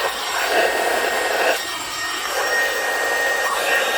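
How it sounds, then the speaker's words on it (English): Compressed air hisses steadily while it blows dust from the spark plug wells of a 2013 Mini Cooper R56, a close, broad rushing sound with slight surges. "Blow some dust out with that, even though there's like nothing in there"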